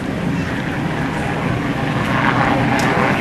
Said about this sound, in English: The aircraft you're looking at here is the H-3 Sea-King helicopter built by Sikorsky.